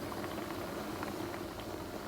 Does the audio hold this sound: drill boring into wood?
no